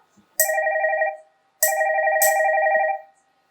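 Telephone bell rings twice on a school annual-function stage, each ring a loud, sharp trilling burst lasting about a second, separated by a short pause, with no talk over it.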